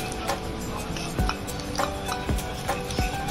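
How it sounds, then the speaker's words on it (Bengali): A spoon stirs and mashes green banana vorta (kacha kola bhorta) in a bowl, giving soft scraping and a few light taps against the dish, spaced irregularly at close range. "তো আমি একটা চামচ দিয়ে সাঁতলে নিচ্ছি।"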